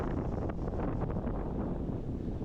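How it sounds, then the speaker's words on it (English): Strong wind at a lake beach on Lake Drevviken near Stockholm, Sweden, a loud continuous roar and buffeting across the microphone with no talking. "But the wind is going crazy right now"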